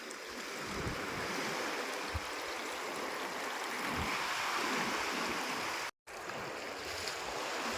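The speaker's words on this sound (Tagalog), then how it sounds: "Yan po ito ilog ito. Malaking ilog." A large river rushes in a steady, loud broadband wash with no voices, the flow continuous apart from a momentary dropout near the end.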